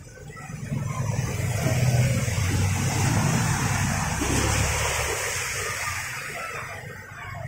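Floodwater surges through city streets in Binjai, a loud continuous rushing wash with low churning rumble, swelling to a peak early then slowly easing, close and unbroken throughout.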